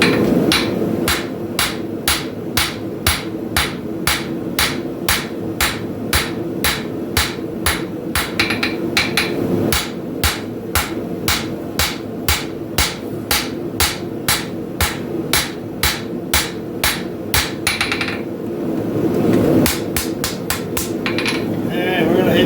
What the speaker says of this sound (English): I'm going to start hammering on that here in just a second